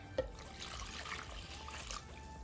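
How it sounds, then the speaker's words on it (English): Cold water, a cup and a half, trickles and pours into a bowl with French vanilla pudding mix for banana pudding, a soft, steady dribble lasting a couple of seconds with a faint clink near the start. "we got a cup and a half of cold water going in"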